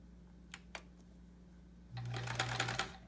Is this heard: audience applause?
no